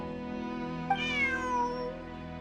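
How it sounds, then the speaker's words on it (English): A single cat meow from the Genshin Impact video game, a rising then falling cry over a steady soft background hum, faint and alone with no talking. "Bonnie is Pierre's cat."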